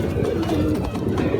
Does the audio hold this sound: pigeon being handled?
yes